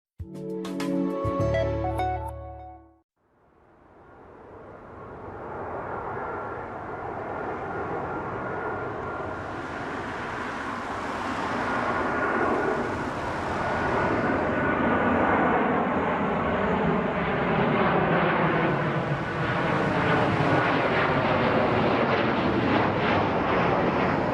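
After a few moments of other sound, a deep rumble swells and holds as a train rolls past on tracks just behind a house, a loud continuous roar of wheels on rails.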